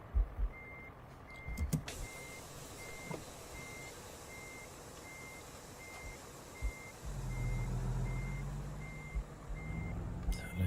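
In the American Truck Simulator game, a truck's reverse alarm sounds a steady run of evenly spaced beeps over a low engine rumble that grows louder partway through.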